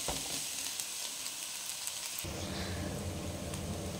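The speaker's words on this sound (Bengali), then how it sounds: "হালকা করে নেড়ে নিয়ে এর মধ্যে মিশিয়ে দেবো এই স্ম্যাশ করে যে আলুটা রেখেছিলাম সেটা" Spices with turmeric and Kashmiri chilli powder fry and are stirred with mashed potato in a pan for a prawn potato chop, a steady close sizzle that thickens and grows louder halfway through.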